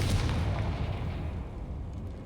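A Confringo fire blast spell explodes in the Hogwarts Legacy video game, a heavy booming burst with deep rumble that rolls and fades away over a couple of seconds.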